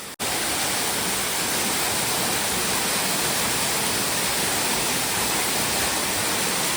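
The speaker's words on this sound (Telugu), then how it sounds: "ఇక్కడ కూడా వాటర్ ఫాల్ ఉన్నట్టుంది." Water falls inside the dark Lyngksiar cave in Meghalaya, making a steady, loud, unbroken rushing hiss that fills the whole stretch with no voices.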